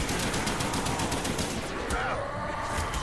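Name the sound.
Python revolver firing in Call of Duty zombies video game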